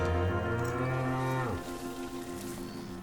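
Thin cattle in a desert oasis at Los Comondú, Mexico, give one long, deep, loud moo that falls away after about a second and a half, followed by quieter lowing and background noise.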